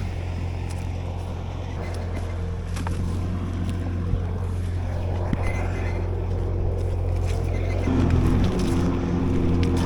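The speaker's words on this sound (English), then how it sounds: "I don't want to watch a skid steer all day." A skid steer works through Hurricane Helene clean-up in Rutherfordton, North Carolina, its engine a steady, close, low droning rumble with harmonic hum that climbs in pitch and strengthens near the end, set against faint wind and scattered clanks.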